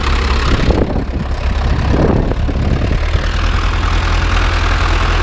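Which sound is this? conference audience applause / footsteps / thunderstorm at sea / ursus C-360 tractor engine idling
ursus C-360 tractor engine idling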